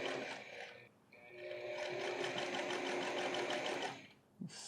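A sewing machine stitches horizontal seams on men's pants in a steady, close whirring run lasting several seconds, pausing briefly near the start and stopping near the end.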